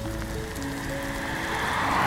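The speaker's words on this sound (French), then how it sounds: "Je suis en galère, il pleut là." Rain falls steadily outdoors during a bike ride on the Paris-Roubaix route, a dense continuous patter that grows slightly louder toward the end, with faint tonal hums underneath.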